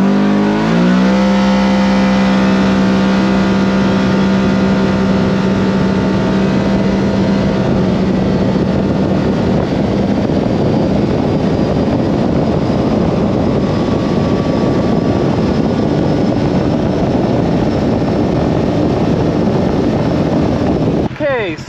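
Kawasaki KRX 1000 side-by-side on 35-inch tires with a Dynojet PV3 tune and stock belt, engine droning loudly and climbing steadily in pitch as it accelerates through a long run, up close, with wind and drivetrain roar.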